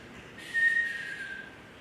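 A person whistles a close, clear imitation of a chickadee's two-tone call: one bright whistled note, held about a second and sliding gently downward, heard alone.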